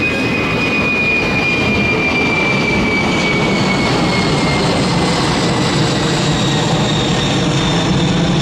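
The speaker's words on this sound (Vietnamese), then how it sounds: "Và đó là Boeing 747-400F cất cánh." A China Airlines Cargo Boeing 747-400F freighter takes off in the rain, a loud, steady jet roar with a thin high whine, sustained and unbroken throughout.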